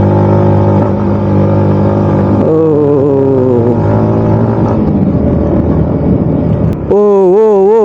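A car engine drones steadily while driving on a hill road in Sajek Valley, then its pitch climbs after a downshift. Wind buffets the microphone throughout, and the engine tone shifts again near the end.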